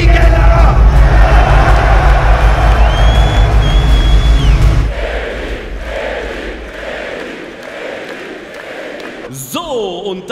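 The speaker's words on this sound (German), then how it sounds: "Macht mal Lärm für Eli Geller!" A hall crowd at an amateur football cup tournament roars and cheers loudly for about five seconds, then fades into scattered shouts and chatter with voices talking.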